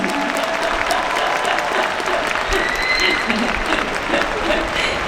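An audience at a film festival open talk for the film Broker at the Busan International Film Festival applauds, a dense sustained clapping from a large crowd outdoors, steady and loud for the whole stretch, with a voice faintly under it.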